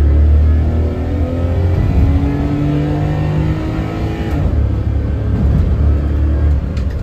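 A carbureted three-cylinder Daihatsu Mira K car with a three-speed automatic accelerates hard from a slow roll in second gear. The engine drones loud and close in a steady, rising rev with no talk over it.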